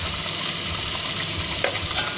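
Sambal with anchovies and tempeh is stirred in a hot pan, giving a loud, steady hiss of frying oil throughout, with scraping stirs and one sharp clink near the end, close by and without speech.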